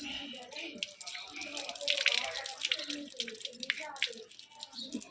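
Water is splashed and dripped at a sink while a face is washed outdoors on a sunny day, a steady close patter of splashes with a voice speaking over it.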